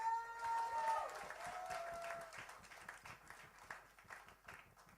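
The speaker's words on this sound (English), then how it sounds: "I think this guy deserves another round of applause, please" Sustained audience applause at a luxury style week fashion show, dense clapping from a large crowd that starts loud and gradually thins, with a faint tonal hum early on.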